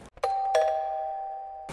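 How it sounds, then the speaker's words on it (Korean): A two-tone ding-dong doorbell chimes once, clear and close, the second tone ringing out and fading slowly in a quiet room. "조용한 집안에 초인종 소리가 울려 퍼집니다."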